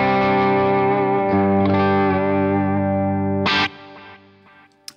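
Electric guitar run through the Waves GTR amp simulator with heavy compression, a sustained chord ringing loud and even before cutting off into a brief scrape and decaying tail.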